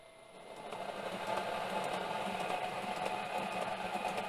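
Cooling fan of a three-phase electric motor powered from a single-phase supply, whirring steadily with a faint mechanical hum while the motor itself fails to turn; it rises slightly at the start, then holds a constant level.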